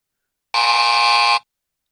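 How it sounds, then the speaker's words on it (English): A single sustained electronic buzzer blares loud and steady for just under a second, a harsh, rich tone that starts and stops abruptly, standing alone against silence. "Where the hell's the buzzer on this thing?"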